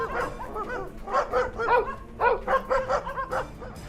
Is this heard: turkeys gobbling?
no